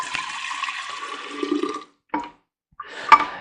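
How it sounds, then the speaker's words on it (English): Essential oil mixture for treating nosema and mites in beehives poured from a blender into a half-gallon jar, a close liquid splash and gurgle for nearly two seconds, a short burst, then a final trickling pour. "We're going to pour it right in there."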